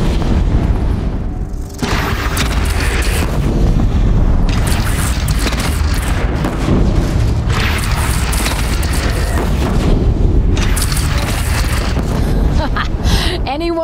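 Repeated heavy cannon booms in a video game battle against bandits, loud and dense, firing in bursts across the stretch with brief lulls between volleys and shouting mixed in.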